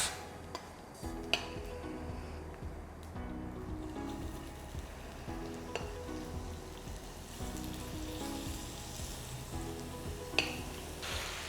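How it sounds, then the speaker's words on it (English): Prawns frying in hot oil in a pan for a Bengali prawn malai curry, a steady, soft, continuous sizzle with occasional stirring clinks and no talking. "Now the oil is hot enough. Now I'll add the prawns."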